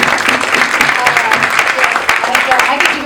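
An audience at a women's health roundtable applauds steadily, dense continuous clapping filling the room at close range and staying loud throughout, with no pause.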